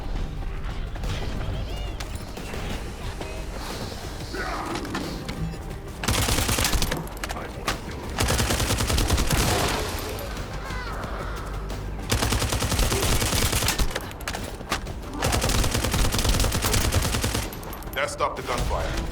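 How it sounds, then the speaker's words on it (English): Bursts of rapid gunfire and explosions crackle in waves in the video game The First Descendant, with battle noise alternating between heavy volleys and quieter stretches. "That stopped the gunfire."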